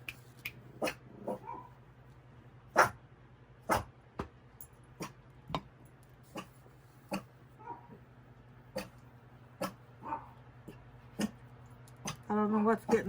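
Several dogs bark indoors at night, sharp separate barks and yips spaced every second or so with occasional whimpers, over a low steady hum, building to a busier burst at the end.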